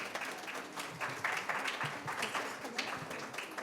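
An audience applauds a speaker being invited to the floor, with steady dense clapping throughout and a few brighter individual claps standing out.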